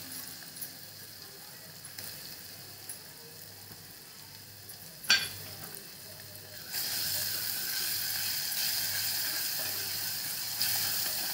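Something sautés in oil with asafoetida for horsegram madaga, starting as a faint sizzle with a clink partway through, then jumping to a louder, steady hiss that continues to the end.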